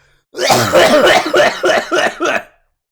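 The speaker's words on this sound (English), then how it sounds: "I'm gonna cough" A close, loud fit of coughing: a rough opening cough followed by several rapid, evenly spaced hacks that trail off into silence.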